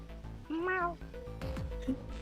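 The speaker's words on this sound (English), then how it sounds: "June, can you meow for me?" A single meow in a video game, a short rising-and-falling cry of moderate loudness over soft background music.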